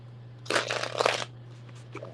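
Tarot cards are shuffled in one quick riffle lasting under a second, close and crisp, followed by a brief faint rustle.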